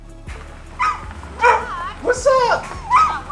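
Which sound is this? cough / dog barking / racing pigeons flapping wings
dog barking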